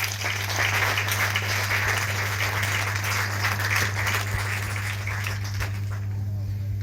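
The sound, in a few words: congregation applauding at a thanksgiving mass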